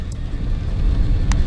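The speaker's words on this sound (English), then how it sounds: "This is the convoy vehicle." A convoy vehicle drives on a snowy Scottish road. A loud, steady low rumble of engine and tyres is heard from inside a following car, with a brief higher click near the end.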